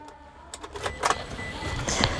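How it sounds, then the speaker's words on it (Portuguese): A traditional metal key slides into the ignition of a 2012 Mitsubishi Triton, giving a few close, small clicks and a faint metallic jingle in a quiet cabin. "Chave tradicional, você coloca no contato aqui, ó."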